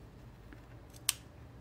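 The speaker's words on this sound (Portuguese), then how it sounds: "Aí eu vou cortar aqui." Scissors snip once through yarn on a crocheted amigurumi dog, a single sharp, close click standing out from a quiet room with no talking.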